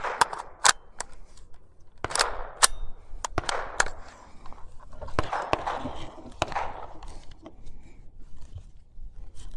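A GSG-15 .22lr carbine fires at an outdoor range target, several sharp, fairly faint reports spaced irregularly with short pauses between them.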